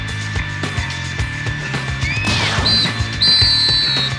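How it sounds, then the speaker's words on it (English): A referee's whistle ends the half in the GameCube game Disney Sports Soccer, with shrill tones sounding over looping game music and mechanical clicking effects. "There's the whistle signaling the end of the half."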